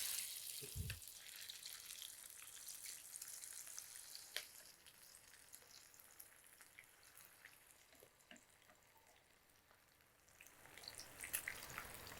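Marinated chicken 65 deep frying in hot oil, a faint steady sizzle and crackle with scattered pops and drips, close and quiet, no talking.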